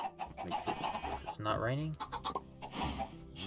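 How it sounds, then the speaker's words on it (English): Chickens cluck in the video game Minecraft, short close clucks mixed in with someone talking over them. "I hear chickens making eggs."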